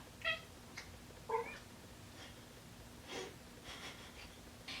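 A cat gives two short, soft meows close by, followed by faint snuffling breaths in an otherwise quiet room.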